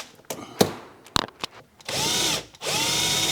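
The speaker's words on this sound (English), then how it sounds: "So I'll drill out the rivets on here." A power drill drilling out rivets inside a Land Rover Defender, with a few sharp clicks and knocks as it is positioned, then two sustained loud whining bursts with a short break between them, close by.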